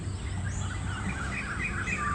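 Wading birds calling along a riverbank in Thailand on a hot morning, a few scattered chirps over a steady wash of outdoor background noise.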